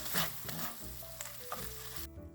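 Meat sizzles and fries in a pan for low-carb keto nachos, a steady close crackle with the stirring and scraping of a utensil, and no voices.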